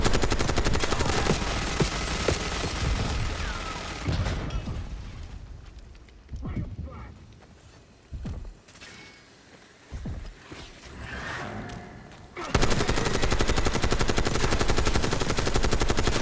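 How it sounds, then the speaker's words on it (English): A minigun firing in Call of Duty Black Ops 6, dense continuous roaring bursts that drop away mid-clip amid scattered blasts and a voice, then surge back loud at the end. "Minigun."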